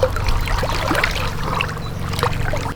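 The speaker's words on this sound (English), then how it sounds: "draw the skimmer through the water like this" A skimmer drawn through the water of a natural swimming pool makes a close swishing, trickling slosh over a low steady rumble, with small splashes throughout.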